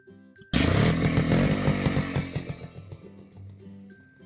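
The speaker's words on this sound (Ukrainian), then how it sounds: "Це мотоцикл." A small engine suddenly roars to life and buzzes loudly with a rapid, rattling putter, then gradually fades as it idles down. No voices are heard.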